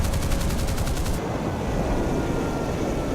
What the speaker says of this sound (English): And now they're getting lit up by AAA.